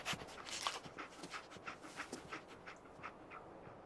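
A dog companion from a video game pants in quick, steady breaths, close and fairly loud, with no talk over it.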